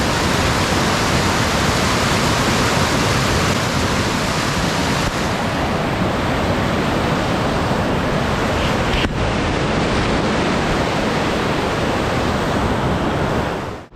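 Mandakini river rushing loudly and steadily at its confluence at Karnaprayag in Uttarakhand, a dense unbroken roar of flowing water close by with no voices.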